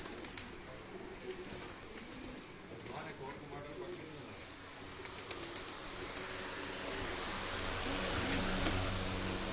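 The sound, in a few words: breeder pigeons cooing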